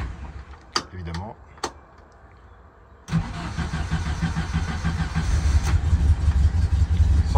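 A cold car engine is started: a few sharp clicks and a brief crank, then the engine catches and settles into a loud, steady running rumble that grows slightly stronger.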